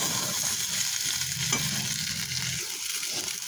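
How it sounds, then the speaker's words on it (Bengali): Food sizzles steadily in a hot kadai while a utensil stirs and scrapes, close by and with no voices. "তো বন্ধুরা দেখো, আমার ভাজা হয়ে গেছে।"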